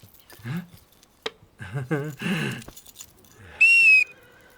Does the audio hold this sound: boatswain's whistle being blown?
yes